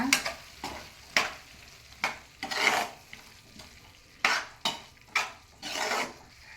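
Vegetables cooking in a pan with ground spice paste for a hotel-style vegetable saagu, stirred by hand: a series of scraping, sizzling strokes with short pauses between them, close and fairly loud, no talking.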